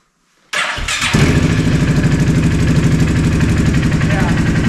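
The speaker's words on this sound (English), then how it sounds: "let's do a cold start with the new battery. Key on." A tiny Ford Raptor engine, fitted with a new battery, makes a cold start: a short crank, then it catches into a loud, close, rapid rumbling idle that holds steady.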